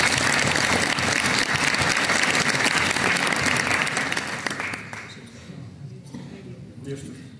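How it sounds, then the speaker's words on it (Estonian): An audience at a public meeting in a hall claps together in a loud, dense burst that holds for several seconds, then fades quickly to scattered quiet claps and faint room noise. "Ja tema aplausi ka ikka."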